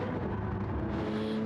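A race car in a Le Mans sim racing game brakes hard into a corner, its engine droning with a steady mid-pitched whine and shifting tone, close and continuous, no voices over it.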